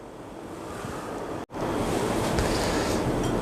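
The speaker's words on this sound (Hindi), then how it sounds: "इनको मशीन में डाल के मैं इनको पीस लूँगा, बहुत बारीक नहीं पीसना" An electric grinder runs on dried coriander, cumin and black pepper with a loud, steady whirring roar that cuts out for an instant midway and then resumes just as strongly.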